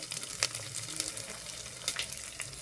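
Ground spices frying in a pan for pea ghugni, a soft, steady sizzle with occasional louder crackles and stirring scrapes, close and continuous, with no talking.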